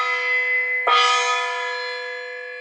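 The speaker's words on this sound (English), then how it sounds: "This is specifically an opera gong." An opera gong is struck once, giving a sharp metallic hit that blooms into a bright, pitched ring and slowly decays, loud and close, without any voices.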